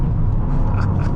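A 2023 Toyota Corolla GR engine pulls hard under throttle, a loud, steady low rumble heard from inside the car, droning continuously without a break.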